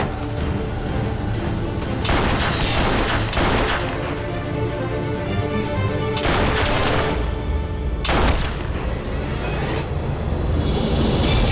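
Sustained gunfire during a tense standoff, with repeated loud bursts and volleys crashing without pause, some shots sharper and closer than others, no clear talk over them.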